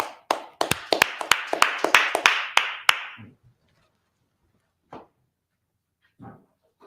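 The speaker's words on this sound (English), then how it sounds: "Clap it up." About a dozen sharp claps from an audience burst out in a quick group for a few seconds, then give way to near silence with a couple of faint sounds.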